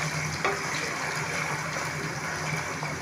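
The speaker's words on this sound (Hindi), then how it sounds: "हमारा चिकन फ्राई हो रहा है।" Half a kilo of chicken pieces frying in hot oil in a pan for biryani, a steady, close sizzle that holds evenly throughout with a faint clink near the start and no talking.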